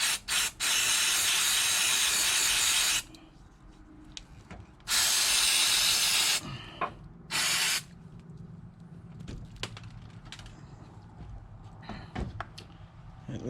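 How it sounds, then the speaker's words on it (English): Electronic cleaner sprays in long, loud hissing bursts from an aerosol can onto parts of a 2007 Ford F550 6.0 truck, with a few shorter blasts and quiet clicks and handling noises between them. "I'm using electronic cleaner to get rid of some of the PB Blaster"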